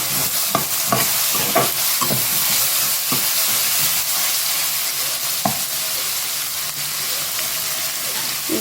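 Vegetables sizzle steadily in a hot pan while stir-frying for veg noodles, with carrots added, and occasional scraping and tapping from stirring throughout.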